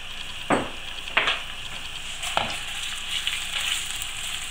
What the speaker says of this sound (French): Lorsque mon huile est chaude, donc j'y dépose mes foies de volaille.